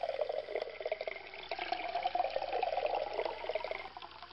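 Filtered water trickles and drips steadily from the upper filtering elements into the lower chamber of a Big Berkey gravity water filter, a continuous splashy patter at moderate level with no voices.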